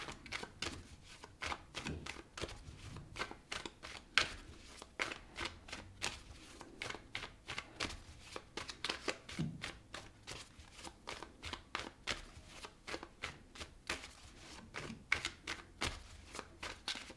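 Tarot cards shuffled over and over, a steady run of soft, crisp riffling clicks that carries on without a break, with no talking.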